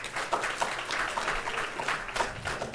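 Lecture audience applauding, a dense, steady wash of clapping from many hands that holds for a few seconds without breaks.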